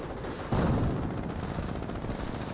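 Mortar fire from a mortar half-track in Company of Heroes, a sudden loud boom followed by a rumbling tail under ongoing distant battle noise.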